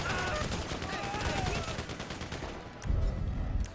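Gunfire in the Grand Theft Auto V video game, rapid bursts of shots crackling in a dense volley with a heavier thump near the end, under a game soundscape.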